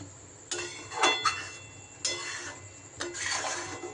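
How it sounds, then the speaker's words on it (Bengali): Mango pickle cooking in jaggery in a pan while being stirred, with a few scraping, clinking strokes of a utensil against the pan in irregular bursts and a quiet background between them. "এবার বেশ কিছু সময় ধরে নেড়ে চেড়ে এটাকে গুড়ের মধ্যে জাল দিতে হবে।"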